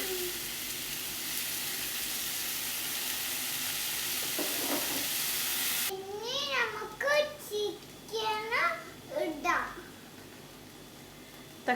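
Tomatoes go into a hot pan for chicken curry, producing a steady loud sizzle with stirring, which then drops back under a voice talking.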